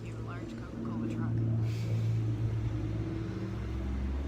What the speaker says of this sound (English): Thank you, large Coca-Cola truck.